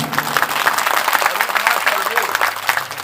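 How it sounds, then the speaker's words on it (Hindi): Applause for the musicians at a Janmashtami Bhagavata Katha gathering, a dense, steady wash of clapping from the crowd lasting a few seconds. "इनके लिए जोरदार ताली।"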